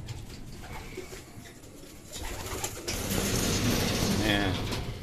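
Racing pigeons for southern races being fed in their loft, with soft cooing, low pecking patter and rustling that grows busier and louder partway through.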